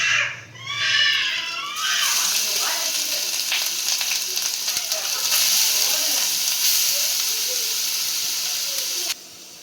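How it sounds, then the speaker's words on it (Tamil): Grated fresh turmeric frying in melted ghee in a pan, a loud continuous sizzle and hiss with occasional stirring scrapes, running steadily for several seconds after a brief clatter at the start. "துருவின மஞ்சளை வந்து நெய்யில் நல்லா ஃப்ரை பண்ணால் தான் நல்லாயிருக்கும்."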